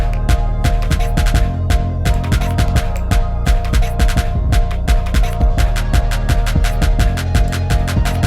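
A dense, loud Jersey Club dance beat loops with rapid bouncy kicks and sharp percussive hits driving under a sustained synth layer, busy and continuous throughout.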